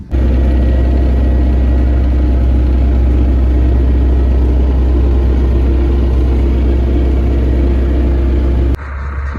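A heavy tractor engine drones steadily at close range during field cultivation, a deep constant rumble that cuts off abruptly near the end.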